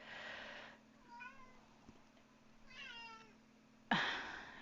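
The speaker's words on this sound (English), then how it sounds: "my cat is very in need of attention today" Domestic cat meowing indoors, two drawn-out meows fairly close but soft, with a louder sharp cry at the end over a low steady hum.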